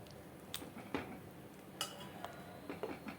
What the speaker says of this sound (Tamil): தாளிப்பை சேர்த்ததுக்கப்புறமா இதை வந்து நல்லா நம்ம வந்து மிக்ஸ் பண்ணி விட்டுடலாம்.